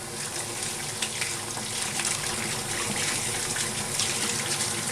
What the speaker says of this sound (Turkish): Çeşmemizi de yıkıyorum.